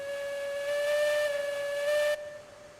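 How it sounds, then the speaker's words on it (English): A steam locomotive's pressure relief valve in the Railroads Online game lets out a steady, shrill whistling hiss with a breathy edge, holding for about two seconds before cutting off abruptly to low background noise. "it's a pressure relief valve."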